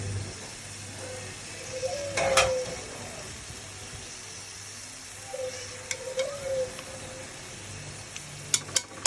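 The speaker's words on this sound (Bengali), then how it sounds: "এবার পুঁটি মাছ ভাজাগুলো উপর দিয়ে দিয়ে নিলাম।" Fried puti fish laid into a sizzling curry pan give a continuous frying hiss punctuated by a few sharp clinks and scraping stirs, near and moderately loud, with no voices.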